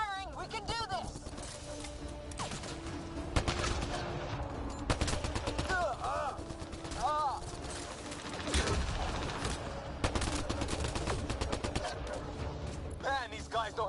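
Gunfire in a PS4 video game: repeated sharp shots and bursts crackle throughout a busy, noisy battle soundscape, with chirping effects and a speaking voice over the action.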